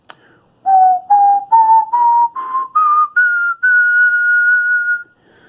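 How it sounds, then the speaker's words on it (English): Someone whistles a rising musical scale, eight clear notes stepping upward one after another, the last held long, close and alone with no talk. "The music teacher whistled a scale."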